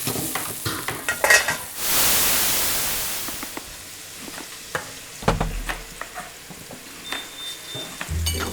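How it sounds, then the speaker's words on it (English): Soy sauce hitting a hot pan with chopped aromatics, a loud sudden hiss and sizzle that fades, with stirring scrapes and clatter before and after, close by with no talk. "We're going to be cooking our soy sauce a little bit with a bunch of aromatics that we've cut up."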